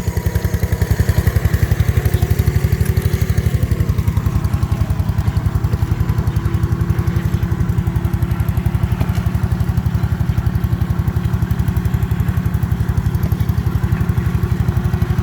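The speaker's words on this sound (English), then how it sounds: "There's another Ransomes own 6 horsepower engine" A Ransomes 6 horsepower stationary engine runs steadily and close at a ploughing day, a loud, even mechanical chug that keeps the same rhythm throughout.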